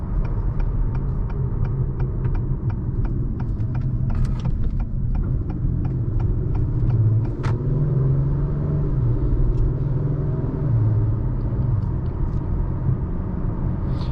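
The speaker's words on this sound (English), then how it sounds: "you do hear some wind road noise, but it's not like it's crazy or anything" Steady wind and road noise inside a 2023 Acura TLX Type S while driving, a constant low rumble with light tire hiss, plus faint rhythmic ticking clicks over the drone.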